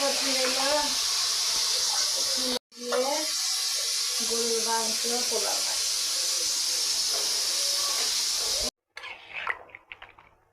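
Meat curry cooks on a stove with a steady, loud steamy hiss, briefly cut off twice, while voices talk over it.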